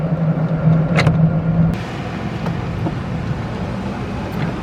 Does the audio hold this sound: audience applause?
no